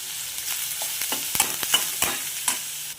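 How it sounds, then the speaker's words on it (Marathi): Onions sautéing in a pan with chillies and curry leaves for Maharashtrian kande pohe, with a soft sizzle broken by scattered spatula scrapes and clicks of stirring, close and moderately quiet. "आता आपण ऑनियन ब्राऊन होईपर्यंत सॉटे करूयात"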